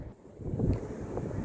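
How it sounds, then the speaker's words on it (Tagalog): Strong wind buffets the microphone outdoors behind Cologne Cathedral near the Rhine, a steady low rumble with gusts swelling around the middle. "di ba ang lakas ng hangin?"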